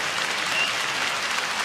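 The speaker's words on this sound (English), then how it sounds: "Give a round of applause to Edward Troyanovsky" A boxing crowd claps at a 140-pound super lightweight quarterfinal bout, a brief, fairly faint wash of applause lasting under two seconds with no one speaking.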